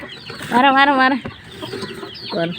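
Hens cluck in a loud, rhythmic burst with a brief repeat near the end, up close on a rainy home farm.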